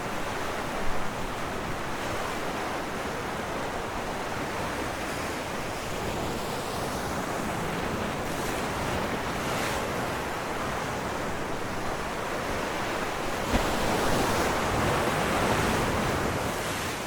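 Ocean waves wash steadily onto an empty foggy beach, a continuous broad roar of surf with gentle swells and wind buffeting the microphone, no voices.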